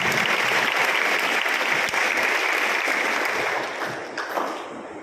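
A congregation applauding in church at a welcome for an auxiliary bishop, dense sustained clapping from many hands, loud and close, tapering slightly toward the end.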